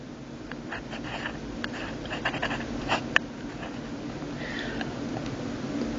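A pen scratches across paper while a calculus related-rates problem is worked out, with short, intermittent strokes up close and one sharp tap, over a faint steady background hum and no talking.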